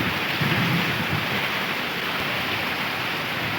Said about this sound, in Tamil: இடியும் மின்னலும் பயங்கரமாக இருக்குங்க.